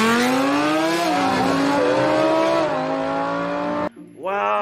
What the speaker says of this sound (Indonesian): Ini mobil balap teman.